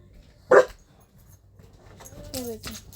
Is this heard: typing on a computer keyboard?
no